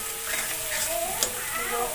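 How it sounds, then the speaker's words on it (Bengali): Masala stirred and fried in a pan over a raised gas flame gives off a continuous close sizzle, with faint scraping from the stirring and no talking. "ভালো করে নাড়ানো হয়েছে, গ্যাসটা আবার একটু বাড়িয়ে দিল"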